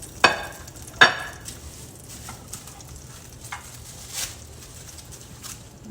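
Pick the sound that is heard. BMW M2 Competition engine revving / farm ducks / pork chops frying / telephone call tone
pork chops frying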